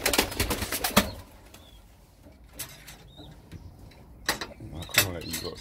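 Homing pigeons, including Viking birds, a blue bar and a checker, coo softly in a loft amid brief wing flaps and clattering, with a few louder bursts near the start and end.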